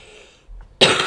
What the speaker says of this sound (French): Excusez-moi, il faut que je tousse.